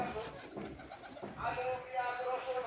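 Pigeons cooing in a loft near their cages, soft low throaty coos close by, with a voice talking over them.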